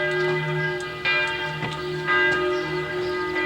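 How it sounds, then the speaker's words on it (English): Church bells of St. James Church in a German town ring steadily and fairly loud from nearby, sustained tolling tones with repeated strikes overlapping throughout, no talking. "Hear the church bells?"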